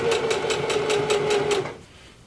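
A sewing machine stitches slowly along the very edge of a gathered skirt with an elastic waistband, its needle hammering out a steady, close rhythm under a constant motor whine before stopping abruptly.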